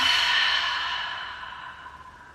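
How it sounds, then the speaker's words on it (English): A loud, noisy exhale out through the mouth closes a deep breath during a hip-opening yoga flow, a close, breathy rush that starts strong and slowly fades over about two seconds, heard alone. "we'll take a loud, noisy exhale out the mouth."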